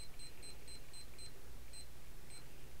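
Short, faint high-pitched timer beeps repeat in a quick rhythmic pattern over a steady low background hum, sounding alone with no talking.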